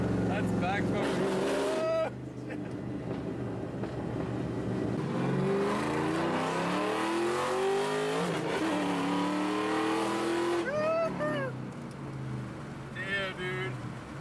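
A straight-piped Ford Mustang GT accelerates hard, its loud exhaust note climbing in pitch through gears with brief drops between shifts, heard from inside the car while people talk.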